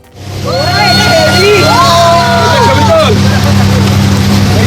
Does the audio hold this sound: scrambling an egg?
no